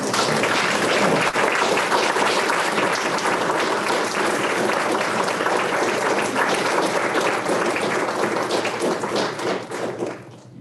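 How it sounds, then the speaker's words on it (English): Standing applause fills a board meeting room, dense sustained clapping from a crowd that stays loud throughout and tapers off near the end. "we give them a standing applause"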